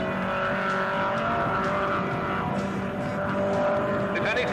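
Race cars, including a small sports car, lap a circuit in a Vector Sports 1300 race, engines droning and revving steadily throughout, with faint tyre noise beneath a constant roar.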